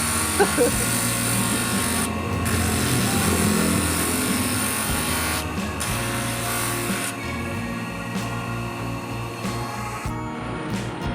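A ring made from coconut shell is shaped with sandpaper, giving a continuous close, gritty abrasive rasp with small shifts in pressure and brief pauses, and a voice faintly present at times.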